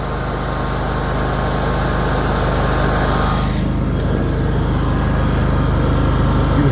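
A 34-inch Encore Z Series zero-turn riding lawn mower engine runs steadily at idle, a continuous low rumble with a droning hum, close and unbroken throughout.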